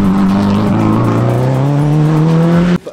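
A Suzuki rally test car engine holds a steady drone with shifting revs, loud and near for nearly three seconds, then cuts off abruptly.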